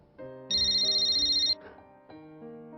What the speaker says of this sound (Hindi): हरीश अंकल का फोन है।